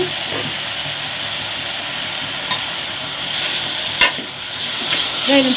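Onions and tomatoes fry for a roadside-style sambar, a steady close sizzle broken by a couple of sharp stirring clinks against the pan.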